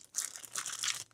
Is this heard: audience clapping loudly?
no